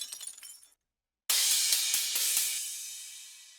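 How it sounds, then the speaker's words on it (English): A stock Ableton Core library broken-glass sample layered on a crash cymbal downbeat: a loud, bright shattering burst that rings and slowly fades, after a brief sparkly tick and a moment of silence. "on every downbeat when the crash hits, I have this Broken Glass sample"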